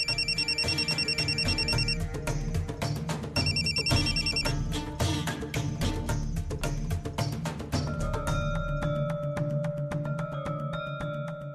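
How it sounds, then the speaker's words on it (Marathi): A telephone in a Marathi TV serial home scene rings with a bright, repeating electronic ring in steady bursts for over ten seconds, loud and close, under a musical score with no talk. "मम्मी, सौरभचा फोन आहे, उचलू?"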